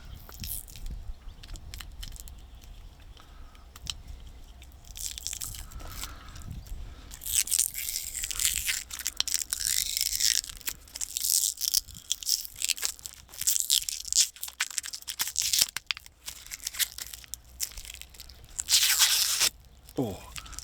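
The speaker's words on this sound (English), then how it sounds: "Let's get this plastic off of it, because I don't like all this stuff." Plastic packaging is torn and crinkled off a Mucar 892 BT scan tool, with close, irregular crackling and ripping bursts and some speech mixed in.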